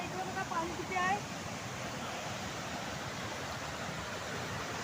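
Steady, loud rushing of river water at a rural swimming spot during rain fills the scene as a continuous broadband roar, with a voice briefly heard near the start.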